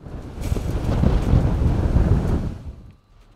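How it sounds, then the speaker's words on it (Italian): Strong wind gusts buffet the microphone as one loud, rumbling roar that holds for over two seconds and then drops away to near quiet. "le raffiche continueranno a spirare per l'intera giornata"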